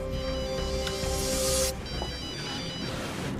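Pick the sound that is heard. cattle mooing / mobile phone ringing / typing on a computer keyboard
mobile phone ringing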